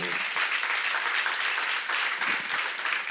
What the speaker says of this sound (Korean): 여러분과 내가 복받은 거면 지금 박수 주세요.